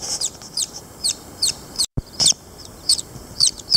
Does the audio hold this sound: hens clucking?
yes